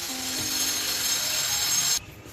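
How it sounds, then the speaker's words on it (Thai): A steady high-pitched grinding whir of an electric drill runs continuously for about two seconds, then cuts off abruptly. "อ่าแล้วมีเสียงมาละเสียงสว่านมาเดี๋ยวต้องหยุดพักกันนะครับ"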